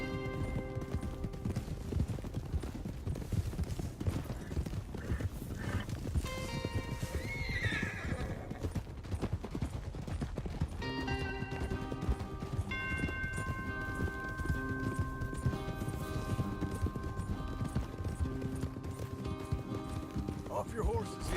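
Horses in the video game Red Dead Redemption 2 gallop with rapid, continuous hoof clip-clop while several loud whinnies and neighs ring out, all layered under in-game music and voices talking.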